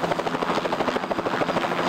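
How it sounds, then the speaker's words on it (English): Helicopter flying a search for scattered mule deer on the Kaibab, its rotor thumping in a steady, rapid rhythm with a continuous engine whine, loud and close throughout. "The helicopter goes out and searches for deer scattered around here on the Kaibab."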